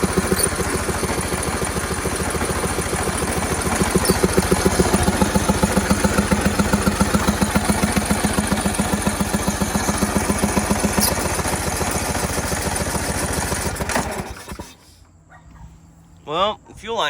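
A Craftsman LT1000 lawn tractor engine, worn from sitting outside with a leaking fuel line, runs loud and steady with a fast, even chugging, then cuts off abruptly near the end, leaving faint noises.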